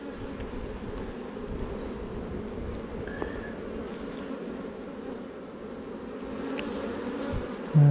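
Honeybees drone steadily and close by during a hive inspection, with a thump near the end and no voices.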